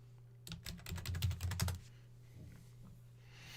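Quick run of keystrokes on a computer keyboard while entering a location search, a burst of close clicks for about a second and a half, then quiet room hum.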